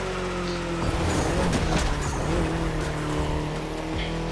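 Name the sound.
race car driving in The Crew Motorfest video game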